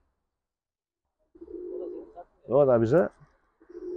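Pigeons coo in a Turkish pigeon loft, one loud warbling coo standing out between stretches of someone talking nearby.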